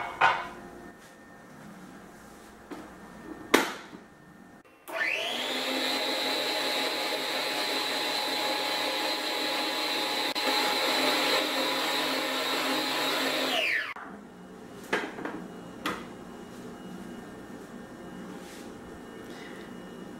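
An electric mixer beats cupcake batter made with milk and wheat flour, running as a steady, loud motor whine for about nine seconds, then shutting off, with faint kitchen clatter before and after.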